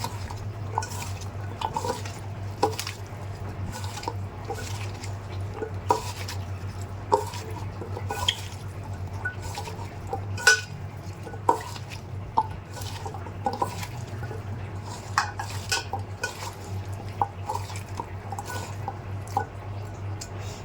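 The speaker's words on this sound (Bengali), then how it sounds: "এইভাবে ভালো করে মাখতে হবে। ভালো করে না মাখলে এটার ভিতরে ঢোকে না মশলাটা।" Taro stolons (kochur loti) are worked by hand with spices in a bowl. Soft wet squelches and small irregular clicks against the dish repeat throughout over a faint low background hum.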